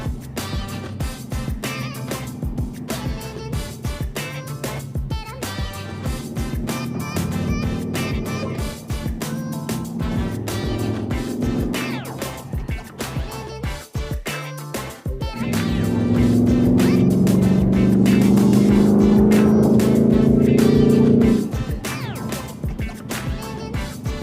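A grabber blue Ford Mustang driving, heard from inside the car: a steady engine drone with rumbling road noise throughout, rising to a louder sustained tone near the end.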